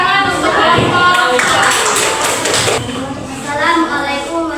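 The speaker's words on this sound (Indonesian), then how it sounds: "beri tepuk tangan untuk kelompok" Classroom of students clapping for a student group, a short burst of scattered applause mixed with children's voices and talk, moderately close.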